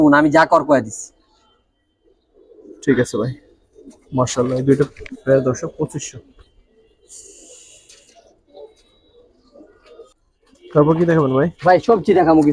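Giribaz high flyer pigeons coo in soft, low murmurs between stretches of close conversation, with the birds faint and intermittent beneath and between the voices.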